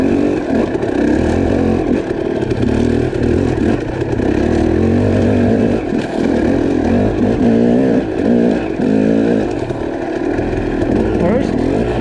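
A KTM 300 two-stroke dirt bike engine revs hard in second gear, a loud, steady, buzzing roar that holds close throughout with slight rises and falls in pitch.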